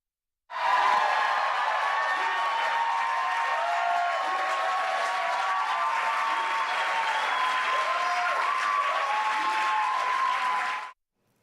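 A crowd in the New York State Assembly chamber cheers and applauds loudly and continuously, clapping mixed with shouts and whoops, starting abruptly and cutting off after about ten seconds.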